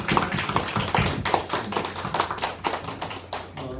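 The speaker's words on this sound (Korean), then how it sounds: "우리 박수로 일단 축하하겠습니다" A church congregation claps to celebrate a baptism at a Sunday service, a brisk run of close, fairly faint handclaps with uneven rhythm for a few seconds.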